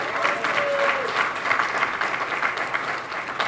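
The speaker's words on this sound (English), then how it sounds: "I'd also like a big round of applause for our brilliant MC" An audience at a township community fundraising event claps for the MC, a full, sustained round of applause heard close, with a faint voice briefly rising over it.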